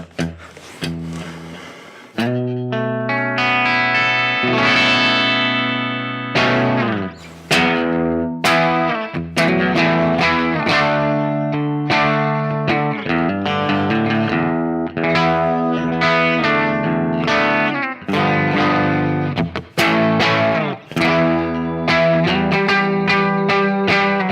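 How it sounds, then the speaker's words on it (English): Electric guitar on a bright, twangy single-coil bridge pickup, played as continuous chords and riffs with slight distortion and effects, loud and close. "So if I push in the bridge pickup,"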